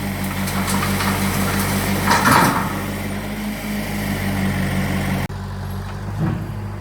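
A truck engine rumbles steadily at a road-building construction site, a constant low drone with a brief louder surge partway through, close and continuous without speech.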